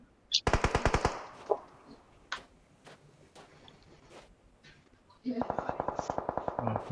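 Thompson submachine gun fire in PUBG, two rapid automatic bursts at the start and end with scattered single shots between, loud and close, with people talking over it.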